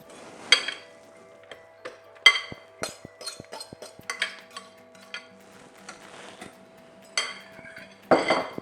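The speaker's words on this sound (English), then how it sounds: "Next thing I'm going to do to that is just going to add the crushed bananas to" A spoon or utensil clinks and scrapes against a mixing bowl as crushed bananas go into a smooth sugar-and-egg mixture for banana bread, with irregular sharp metallic taps and knocks, close and fairly loud, no talking.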